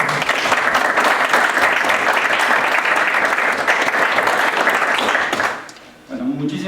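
An audience at a talk on dynamical systems and differential geometry bursts into loud, sustained applause for several seconds, then it fades and a voice begins speaking.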